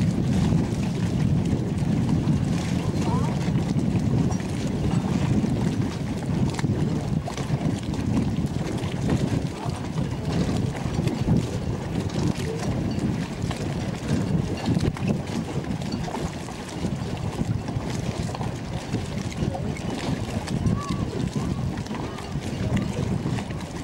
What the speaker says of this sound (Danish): Der er dejlig vind i dag jo.